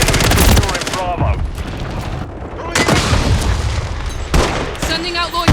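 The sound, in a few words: gunfire and explosions in a shooter video game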